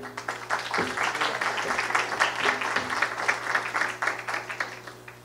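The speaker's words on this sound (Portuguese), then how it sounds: "Uma salva de palmas" An audience at a Brazilian science outreach panel event claps together, a fairly quiet, sustained wash of applause lasting several seconds with a low steady hum underneath and no clear talk.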